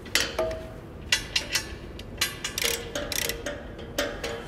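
A wrench tightens mounting bolts on a PT Max belt trainer, giving a run of quick, close ratcheting clicks in short irregular bursts.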